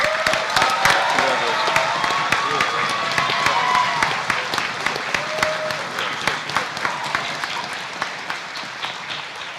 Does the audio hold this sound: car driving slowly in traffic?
no